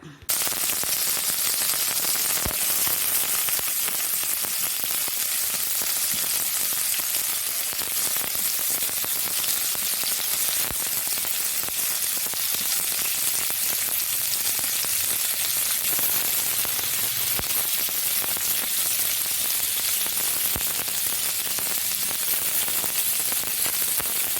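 Onion, garlic and ginger sauté in a pan with turmeric and pepper powder, making a constant hissing sizzle with sharp crackles and pops throughout, with no talking.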